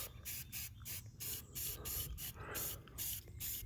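A sprayer hisses outdoors in wind while an obstacle is being built, giving repeated bursts of broad airy spray with short gaps, fairly steady and close.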